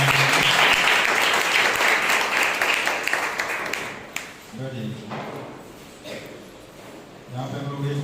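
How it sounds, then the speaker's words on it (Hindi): Loud applause from a congregation at a Sunday church service, heavy clapping for about four seconds that then thins into scattered claps under a talking voice. "जोरदार तालियां हो जाए।"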